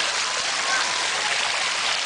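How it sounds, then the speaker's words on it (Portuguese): Water sprays down like light rain where a child sits, giving a loud, steady, close hiss of falling drops throughout. "Senta aí na chuvinha."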